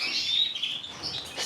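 Native birds kept in an indoor bird room chirp and twitter continuously, a close, bright chorus of overlapping high calls with no voices.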